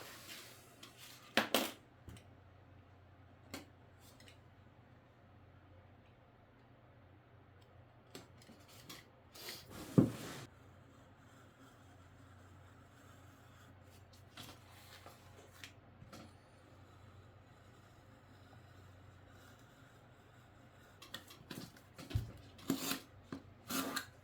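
Scissors trimming excess fabric from a handmade boxy bag, with a few sharp snips and rasping cuts scattered over quiet room tone, one louder clip near the middle and a cluster of cuts at the end.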